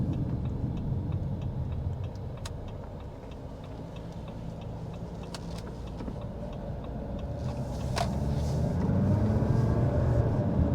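Jeep Meridian SUV making a U-turn, heard from inside the cabin as a steady low road and engine rumble that swells toward the end, with faint intermittent ticking like an indicator.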